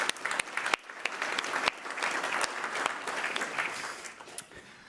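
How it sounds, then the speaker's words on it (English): A conference keynote audience applauds with dense, energetic clapping and a few sharp individual claps standing out, holding steady for about five seconds before tapering slightly. "let's give everyone a round of applause"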